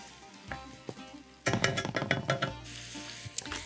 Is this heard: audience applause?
no